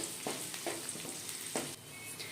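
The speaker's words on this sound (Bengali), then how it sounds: "গ্যাসের ফ্লেমটা লোতে রেখেই 1 থেকে 2 মিনিটের জন্য ভেজে নিতে হবে" Food fries in a pan over a low gas flame for a kochur dal, giving a soft steady sizzle broken by several brief stirring scrapes, faint and close with no voices.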